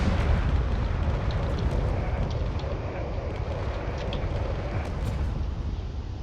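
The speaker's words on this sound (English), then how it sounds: "There's a lot of cannon fire being launched towards the remains of this battleship." Relentless cannon fire pounds a crumbling battleship in a video game, a dense rumbling barrage of overlapping booms and crackling blasts, loud and continuous with no talk.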